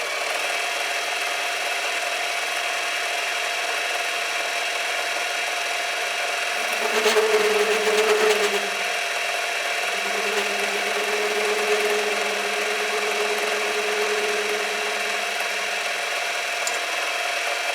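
A metal lathe runs steadily at speed, giving a continuous mechanical whine and hum. A rougher, louder rattling stretch rises briefly partway through, and the machine is heard alone.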